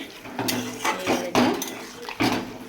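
Lau pata bhorta with added water is stirred in a metal pot, giving several loud clanks and scrapes of the spoon against the pot in an uneven rhythm.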